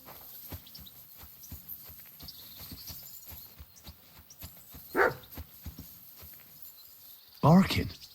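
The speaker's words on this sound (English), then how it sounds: "Barking." A dog barks in the video game Kingdom Come: Deliverance 2, giving two short, loud, harsh barks a couple of seconds apart over quiet footsteps and faint ambience.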